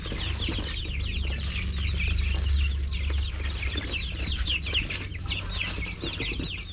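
Fifteen chickens packed in a cardboard box for transport cluck and chatter in a continuous, overlapping stream of short calls over a low background hum.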